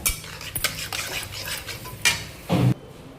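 A metal utensil stirring bottle gourd pieces in ghee in a pan, making close scraping and clinking strokes over a soft sizzle, with a few louder knocks against the pan toward the end.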